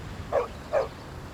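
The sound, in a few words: dog barking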